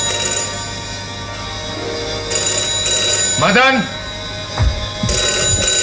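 A telephone rings in a domestic setting, a bright repeating electronic tone running through most of the moment, with a voice speaking over it and brief knocks near the end.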